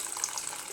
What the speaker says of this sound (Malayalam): വെള്ളം വേണം കുറച്ചും കൂടെ.